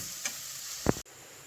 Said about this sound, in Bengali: এবারে চিকেনটা দিয়ে দেবো চিকেনটা অনেক সফট হয়ে গেছে দেখছো ভালো করে নাড়াচাড়া করে ভাজা ভাজা করে নেবো